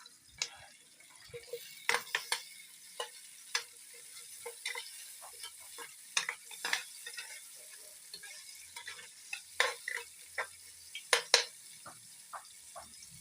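Aromatics sautéing in a pan before leftover crab goes in: a soft, steady sizzle under repeated sharp clicks and scrapes of a utensil stirring against the pan, close and moderately quiet.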